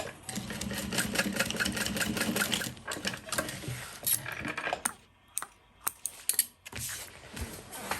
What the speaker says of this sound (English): your straps will then get sewn centered over that seam